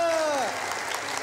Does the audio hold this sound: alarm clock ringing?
no